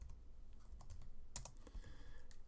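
Fast, light keystrokes on a computer keyboard as a new layer name is typed in a texture-painting session, a quick run of close clicks with one sharper tap near the middle and no talking.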